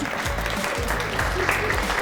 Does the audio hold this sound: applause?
yes